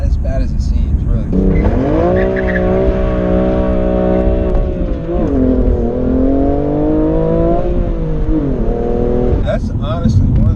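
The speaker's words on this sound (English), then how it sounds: "That's honestly one of the cleanest little tail slides I've ever experienced in my life." A BMW M3 F80 Competition power-slides with its tail stepping out: a loud, steady engine drone rising and falling in pitch through the slide, with faint tire noise and a voice talking over it.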